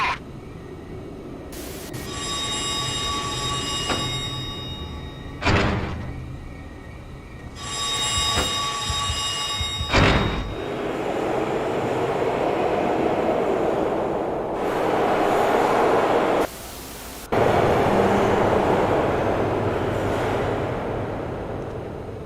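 Train in a rail yard in the video game Manhunt, with a steady rumble of rolling cars, bursts of high screeching wheel squeal and sharp clanks, all continuous and fairly close without speech.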